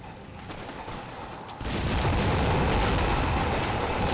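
Grenades lobbed over a wall in an Empire: Total War battle go off in a sudden loud blast that swells into a sustained, rumbling roar of explosions lasting several seconds.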